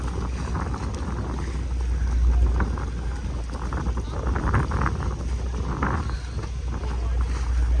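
Tall-ship sailboat Spirit of South Carolina under sail, with steady wind rushing over the microphone, water wash against the hull and a low continuous rumble; a voice speaks faintly in the background.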